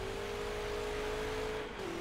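A car engine in GTA San Andreas Definitive Edition drones at a steady high rev, loud and close with a sustained tone, shifting pitch slightly near the end.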